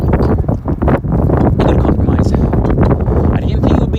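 Outdoor wind buffets the microphone during a skating session, a loud continuous low rumble with gusty surges and brief dips that almost fill the sound.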